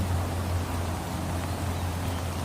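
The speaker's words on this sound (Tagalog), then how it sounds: "Malakas ang ulan." Steady, dense wash of heavy rain with a constant low rumble beneath, loud and unbroken throughout.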